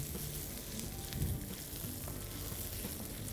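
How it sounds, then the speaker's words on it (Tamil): Chana dal, urad dal, shallots and garlic frying in hot oil give a steady, moderately loud sizzle with a faint crackle, continuous and without any voice. "பாருங்கள் இதெல்லாம் நல்லா கோல்டன் ப்ரௌன் கலரில் ஃப்ரை ஆகிடுச்சு"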